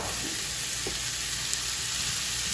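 Food sizzles steadily in a thin layer of olive oil in a pan, a continuous soft frying hiss with a few faint pops and clicks throughout.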